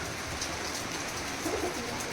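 Soft pigeon coos drift from a loft of Giribaz pigeons over a steady, hissy background, gentle and somewhat distant, with no voices.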